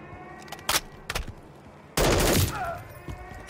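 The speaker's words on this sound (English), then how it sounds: "they're shooting me from a top roof" Gunfire from enemies on a rooftop in the Call of Duty: Modern Warfare 3 campaign: a few short, sharp shots ring out, then a loud, dense burst of automatic fire lasting about half a second.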